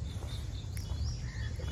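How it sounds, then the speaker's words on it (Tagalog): Faint bird chirps and a thin whistling call rise over steady low rumbling ambience outdoors on a tree-lined path at the Adalaj Stepwell in India, with soft cricket ticking in the background. "huni ng ibon ang maririnig ninyo, tsaka mga crickets"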